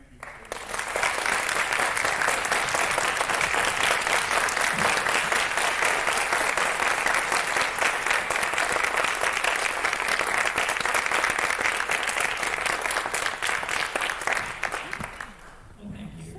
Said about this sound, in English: let's just give him one more round of applause